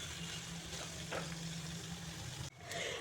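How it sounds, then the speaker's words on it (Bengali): Onions frying in oil in a pan, a faint soft sizzle under a low steady hum, with a brief dip and a slightly louder sizzle near the end; no talking. "পেঁয়াজগুলোকে গোল্ডেন কালার করে ভেজে নেব।"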